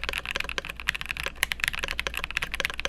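Rapid typing on an Akko ACR Top 75 aluminum mechanical keyboard with silicone and PE foam, a dense stream of close, muted clacks with a soft thocky tone, steady and uninterrupted.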